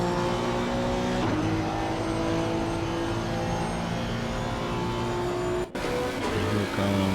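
Race car in Assetto Corsa Competizione at Snetterton, a loud steady engine whine holding close, then a sharp drop as it passes and the tone shifts lower, with no talk.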